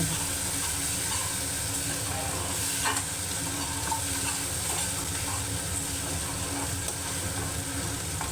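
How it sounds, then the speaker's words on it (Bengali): A spice paste of fenugreek, cumin, coriander, chili and fennel fries in oil in a wok, giving a constant dense sizzle with faint stirring scrapes throughout and no voices. "কড়াইয়ে সামান্য একটু তেল দিয়ে একটু মেথি ফোড়ন দিয়ে তাতে কিছুটা জিরে কিছুটা ধনে আর লঙ্কা আর একটু মৌরি বাটা দিয়ে ভালো করে মশলাটাকে কষিয়ে"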